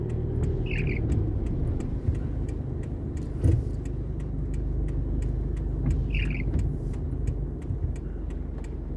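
Car driving slowly through high floodwater in the Albay and Bicol region, a low continuous engine and water rumble with repeated sharp ticking clicks and a soft thump partway through.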